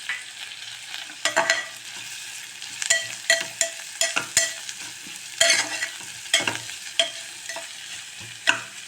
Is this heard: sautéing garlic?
yes